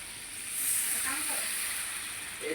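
Okra lightly frying in a pan with onion, turmeric, chili and salt, giving a steady, close sizzling hiss with a few soft stirring sounds.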